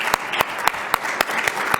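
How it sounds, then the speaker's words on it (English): An audience claps for panel speakers at a conference session on international security, a steady patter of applause with regular sharper claps standing out, moderately close, with no one talking. "please join me in a round of applause for our speakers"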